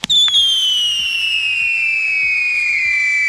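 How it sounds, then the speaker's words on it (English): A line rocket firework whooshing along a cable during testing, a sharp ignition pop followed by a loud, sustained whistling screech that slowly falls in pitch as it travels, with faint rhythmic clicks underneath and no talk. "Not only were we timing the rocket, but we were also timing how long it took for the fuse to burn and for the blast shield to drop."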